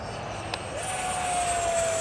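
RC model Avro Vulcan jet flying over a field, a steady loud engine scream that rises in pitch partway through, with one brief knock early on and no talk.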